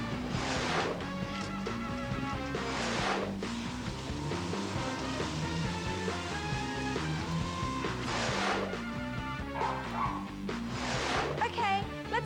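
A dog named Mavis barking repeatedly during a wash at a dog daycare, sharp barks and yips in bursts over running background noise, with people talking in between.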